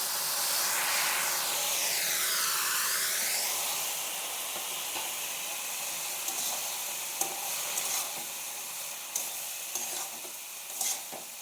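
Kumri greens sizzling loudly in a pan with cooked potato and eggplant, a strong hiss at first that settles into a steady fry, with scattered stirring clicks and scrapes toward the end.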